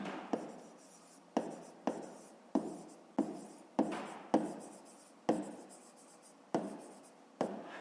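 Pen strokes writing a fifth-grade math exercise on paper, a steady series of about a dozen short scratchy marks in a quiet room, close and fairly soft, with no talking.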